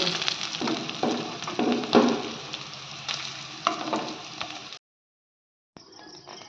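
Oil sizzles and crackles steadily as potatoes fry in a wok, a few clinks and scrapes as pieces are turned, then a brief silence before the sizzle resumes softer.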